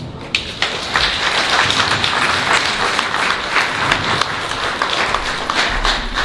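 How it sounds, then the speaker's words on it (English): Audience applause at a graduation ceremony for students of a drawing and painting studio, with mixed claps and some sharp nearby ones, steady and moderately loud throughout. "Can you please give our applause to Fitsum?"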